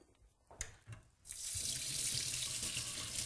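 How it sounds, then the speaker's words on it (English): Cold tap water runs steadily over red lentils in a fine metal sieve, a loud continuous splashing rush after a few soft knocks and clinks. "Just rinse them under cold water."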